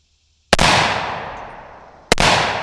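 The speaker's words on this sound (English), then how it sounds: "so the only supers I have are my 110 grain Farmageddon loads, so I'll put 2 of those down range" Two loud unsuppressed rifle shots firing 110 grain Farmageddon supersonic loads crack about a second and a half apart, each sharp report trailing off in a long outdoor echo.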